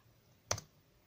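A short burst of laptop keyboard typing at a command prompt, a quick cluster of key clicks lasting a fraction of a second against near silence.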